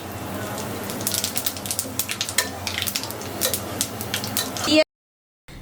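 Bay leaf, dried chilli, cardamom, cinnamon and cumin sizzle in hot oil in a pan, with close crackling pops and spits over a steady hiss, then cutting off abruptly into silence.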